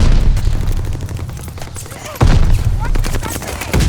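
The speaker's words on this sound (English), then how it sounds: "Just getting shot from every angle" Rapid gunfire from Call of Duty Vanguard or Warzone, with M1 Garand and G-43 rifles in play: dense bursts and booms run close and loud throughout, with a sharp jump in intensity partway through.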